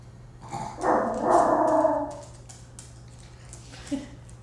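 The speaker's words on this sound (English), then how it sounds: "See, Kingsley hears the little dog outside" A small dog barks and growls outside, a muffled, fairly distant burst of a couple of seconds followed by a faint yelp, in a quiet indoor room.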